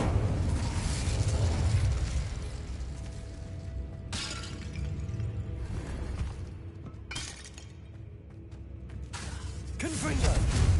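Confringo spell blasts in Hogwarts Legacy burst repeatedly with crackling, shattering explosions and booming impacts, several loud bursts spaced a few seconds apart amid game effects.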